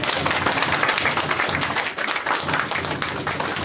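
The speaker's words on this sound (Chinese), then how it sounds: "请掌声喝彩" Applause from a crowd at a Mazu temple enthronement ceremony in Tokyo, steady and dense for the whole stretch, with faint voices beneath.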